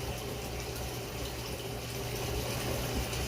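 Water is poured steadily over Xiaguan tuo pu-erh tea leaves as a rinse, a continuous, close gushing splash that keeps an even level throughout.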